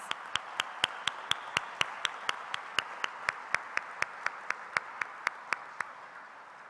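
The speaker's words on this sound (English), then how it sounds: "join me in giving them a round of applause" Sharp, evenly spaced claps repeat steadily, about four per second, at a large annual conference audience, fairly close and with no talk over them.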